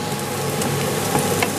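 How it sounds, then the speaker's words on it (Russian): Chopped onion and garlic frying in a pan for a Spanish chickpea dish, a steady close sizzle with faint crackles and occasional light stirring, no voices. "И сейчас буду обжаривать лук и чеснок до готовности. Лук обжаривается"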